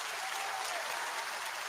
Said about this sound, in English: Can I have some applause, please, for that?